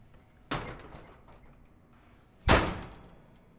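A door opens with two solid thuds, a softer knock first and then a louder, sharper bang a couple of seconds later, each fading quickly in a quiet room.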